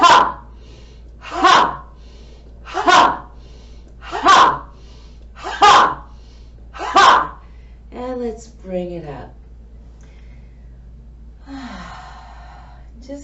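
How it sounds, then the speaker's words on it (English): Six forceful, breathy "Ha" exhalations come at an even pace, each a sharp burst of air during a bending-down breathing exercise, close and loud, followed by a voice speaking briefly and then quiet. "we're gonna bend down as we take our Ha, and then inhale as we come back up"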